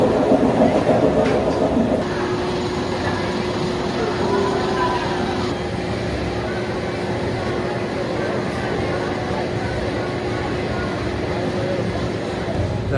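Steady roaring rumble of the Diamondback roller coaster at Kings Island amusement park, a continuous loud rolling drone with a low hum, louder for the first couple of seconds and then holding even to the end.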